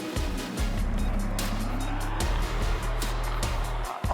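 Supercars race cars roar on track at the Bathurst 1000 start, with a dense, loud, sustained engine drone and tyre noise from several cars close by, plus faint background sound.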